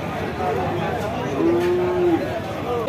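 At a crowded cattle market in Chaugachha, Jashore, a bull calf of a breed such as Sahiwal, Australian or Friesian gives a single drawn-out moo lasting under a second, rising over the steady chatter of people nearby.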